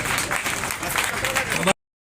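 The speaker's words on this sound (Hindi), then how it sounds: "एक बार पूरा उनका सम्मान तालियों के साथ" Brief burst of crowd applause at a political gathering honoring a member of parliament, dense and steady, cutting off abruptly.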